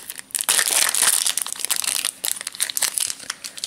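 Close, loud crinkling and tearing of a plastic wrapper as a Mini Verse cafe series ball toy package is ripped open, coming in rapid bursts that fade to scattered rustles.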